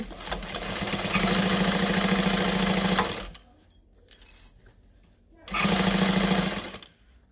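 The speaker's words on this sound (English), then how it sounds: "I'm basting this 1/8 of an inch seam allowance" A sewing machine bastes a 1/8 inch seam on a waterproof canvas tote bag, with two loud bursts of fast, steady stitching separated by a short pause filled with faint handling noises.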